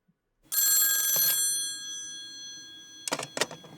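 A telephone bell rings at the start of a phone call, with one long bright metallic ring, then silence, then two short bursts of ringing, all close and clear.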